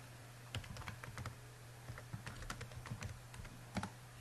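Someone types a name into a library catalog search field on a computer keyboard, producing scattered quiet key clicks in short irregular bursts over a steady low hum.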